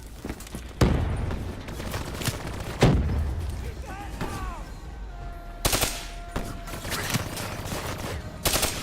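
Gunfire in the Call of Duty: Black Ops III campaign, sharp repeated shots and bursts over a dense battle din, with a voice speaking partway through.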